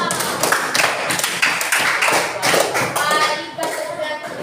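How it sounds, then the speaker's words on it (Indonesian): Students clap for a presenting group in a classroom, a scattered, uneven patter of hands with sharp taps and a few thumps, loud and close, fading slightly near the end. "Tepuk tangan untuk kelompok"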